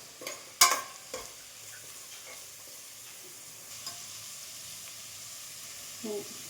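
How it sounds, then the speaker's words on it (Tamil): Onions and shallots with salt sautéing in a pan for sambar, a soft steady sizzle with a few sharp spoon clinks and stirring scrapes near the start, close and fairly quiet. "இது வதங்குற நேரத்தில் நாங்கள் வெங்காயம் கூட சேர்ந்து சின்ன வெங்காயமும் போட்டிருக்கோம்"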